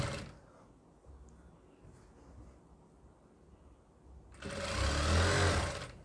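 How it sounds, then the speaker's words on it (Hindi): A sewing machine stitching an Afghani salwar, its low motor whir running softly at first, then swelling into a louder, steady burst of fast stitching toward the end. "यहाँ से देखिए इसकी इस तरीके से सिलाई लगाएंगे"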